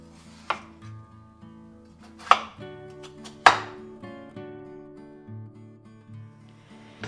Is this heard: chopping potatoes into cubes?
yes